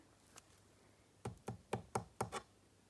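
Knocking on a door at home: six sharp, evenly spaced raps in a quick burst after a faint earlier tap, fairly close and alone with no talk.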